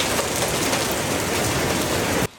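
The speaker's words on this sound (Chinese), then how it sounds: "民众拍下同条街道被狂风暴雨横扫后" Heavy rain pours in a dense, loud, continuous roar during a violent windstorm on a city street, then cuts off abruptly at the end.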